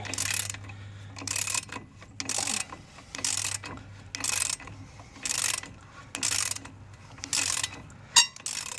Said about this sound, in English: So I've got my extended ratchet.